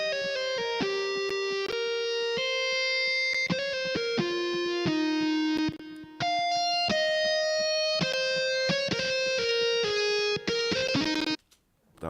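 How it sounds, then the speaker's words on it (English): A COSM loud guitar preset in FL Studio plays a quick melodic line of bright, distorted synthesized guitar notes, steady and prominent, with a brief dropout near the end. "It's called COSM loud guitar."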